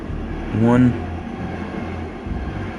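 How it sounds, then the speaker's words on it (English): A train passing by outside, a low steady rumble heard faintly under the room's ambience, with a brief louder tonal swell near the start. "there's a train going by"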